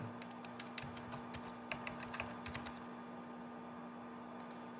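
Quiet, uneven bursts of key clicks from a computer keyboard being typed on, close but faint over a low steady electrical hum.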